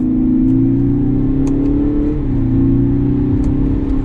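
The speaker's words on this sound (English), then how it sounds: "You can hear a little bit of the exhaust note." A steady, loud engine drone from a 2021 Lexus NX 300 F Sport SUV, with a low exhaust rumble, pitch rising slightly and dipping once as it accelerates in second gear.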